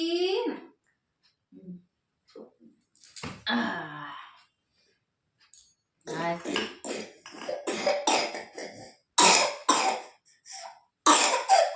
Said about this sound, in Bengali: খাবার মুখে দিলে খুব কাশি হয় ওর